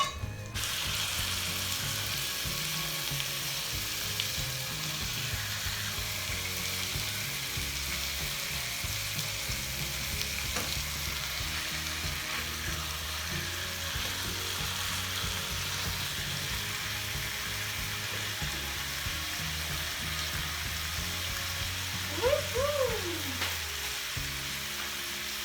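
Steady frying sizzle of butter in a frying pan, a continuous crackling hiss with faint clinks of a utensil near the end, no voices.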